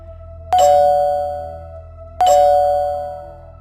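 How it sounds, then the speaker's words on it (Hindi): Two resonant bell strikes about two seconds apart, each ringing out with a long, slowly fading tone. "अचानक उन्हें दूर से घंटी की आवाज सुनाई दी।"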